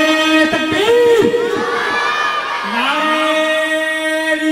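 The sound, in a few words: crowd raising hands and chanting slogans at gathering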